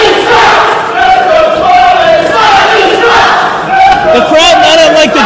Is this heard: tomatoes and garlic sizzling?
no